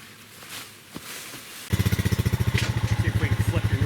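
A new four-wheeler ATV engine starts up abruptly partway through and keeps running with a steady, close, rapid pulsing chug, after quieter outdoor rustling.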